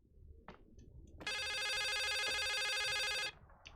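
An old landline telephone rings once in a steady, buzzing electronic trill lasting about two seconds inside a quiet house in the video game The Suicide of Rachel Foster, loud and close, with faint knocks before it.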